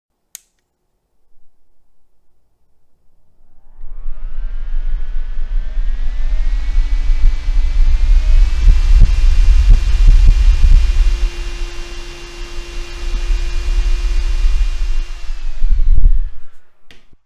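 ARCTIC Summair 2Go pocket cooler fan spinning up to high speed, a steady close whirring hum with a whining tonal pitch that rises then holds, plus some bumping handling thuds near the middle.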